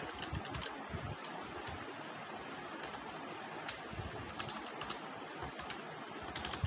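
Typing on a computer keyboard while writing C code, a steady close run of light key clicks and taps with no pauses, no talk.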